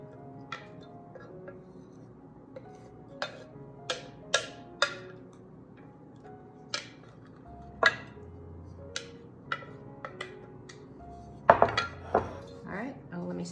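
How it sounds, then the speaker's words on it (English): Sauce for kosher keto crack slaw is poured into a pan and stirred, giving sparse, close metallic clinks and scrapes of a utensil against the pan between quiet stretches, with no talking. "Just gonna pour it in, stir it around, put it back on the stove"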